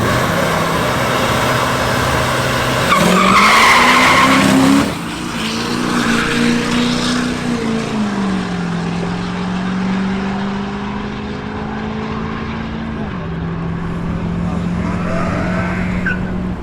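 A diesel truck with a 6.4 Power Stroke engine launches at a drag strip, its engine note climbing and shifting through several rising and falling pitches over a sustained roar, with a burst of tire noise near the start.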